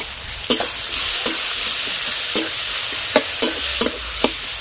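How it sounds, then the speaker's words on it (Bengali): Chopped onion, garlic, green chilli and tomato fry in a pan with a steady, loud sizzle, broken by several sharp clinks and scrapes as the spoon stirs the mix. "একটু ভালো করে ভেজে নেব।"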